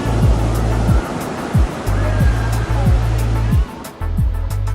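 Huge ocean waves off the Portuguese coast crash and roar in a loud, continuous wash of surf, with a repeating low sweeping tone layered over it.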